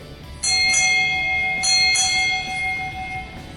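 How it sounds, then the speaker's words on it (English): Four bright strikes of a ship's bell sound at a naval change of command ceremony at Naval Hospital Lemoore, struck as two closely spaced pairs with a sustained metallic ring trailing each pair. "Sound 4 bells."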